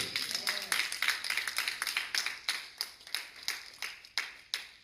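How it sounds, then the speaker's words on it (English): A congregation in a church building claps in a roughly steady rhythm, sharp distinct claps about twice a second, loosening and spacing out toward the end as the clapping thins. "Clap your hands all over the building."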